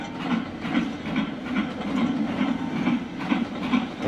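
A black LMS 4-6-2 Duchess class steam locomotive in a train simulator on the Rosworth Vale route, rolling with a steady rhythmic clickety-clack of wheels over rail joints under a continuous hiss and low rumble.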